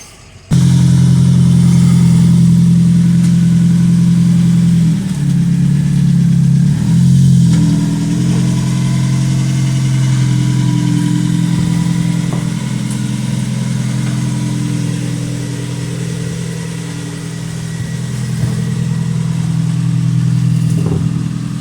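A Spec Miata race car engine fires up abruptly and settles into a steady, loud, close idle with a few small blips of revs. No one speaks.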